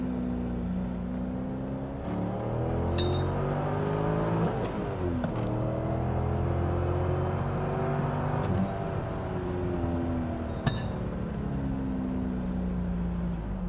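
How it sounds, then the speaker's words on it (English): A deep, throaty supercharged 600 hp 2003 Chevrolet Corvette Z06 V8 exhaust accelerates hard through rising gears, its roar climbing and shifting repeatedly, fairly loud and steady throughout. "that exhaust is a perfect tone, and it's not too loud"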